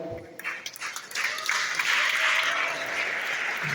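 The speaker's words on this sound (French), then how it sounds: "j'aimerais également qu'on applaudisse et qu'on souligne le travail extraordinaire de Claire Duchesneau," A crowd breaks into steady applause, many hands clapping together in a dense, sustained patter that grows fuller after the first moments.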